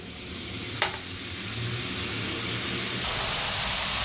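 Butter murukku dough fries in hot oil over a medium flame with a steady, close sizzle that grows slightly brighter partway through, and no one speaks.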